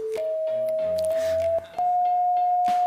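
A steady electronic sine-like tone from a head-mounted colour sensor, sounding the colour of grass, holds alone for about three seconds, with a brief dip and a slight pitch rise midway, faint clicks and low hum behind it.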